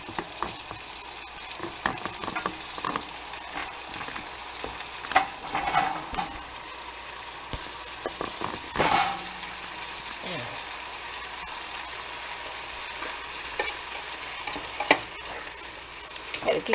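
Ground beef frying in a pan for a casserole, stirred now and then, gives a steady soft sizzle with occasional scraping and clatter of the utensil, close by and moderately quiet throughout.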